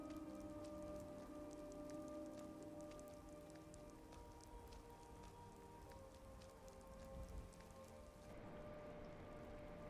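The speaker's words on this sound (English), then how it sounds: "the rain was still falling" Steady rain falls in Skyrim, a constant even hiss of drops on surfaces that fills the whole stretch with no voices, softening slightly near the end.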